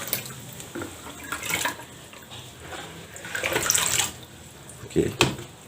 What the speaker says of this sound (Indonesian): kita aduk sampai dia homogen ya, tercampur dengan rata seperti ini